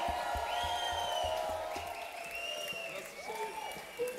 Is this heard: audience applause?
yes